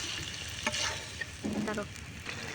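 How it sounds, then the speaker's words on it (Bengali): Potato pieces sauté in spice paste with a little water, giving a soft steady sizzle with a few scraping stirs, one of them clearly louder. "অল্প একটু পরিমাণে পানি দিয়ে আলুগুলা আমি একটু ভালোভাবে কষিয়ে নিব"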